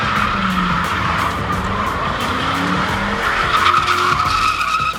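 A Ford Mustang does burnouts and donuts, its tires squealing loudly and continuously while the engine revs rise and fall underneath, close and intense for several seconds.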